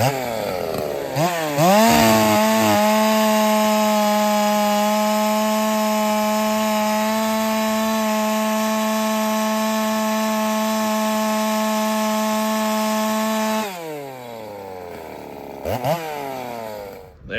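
A chainsaw revs up and cuts through wood with a loud, steady whine for about twelve seconds, then winds down and briefly revs again before stopping.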